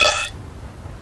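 A short loud burp from a cartoon character, a single raspy blast lasting a fraction of a second that then drops away to quiet room noise.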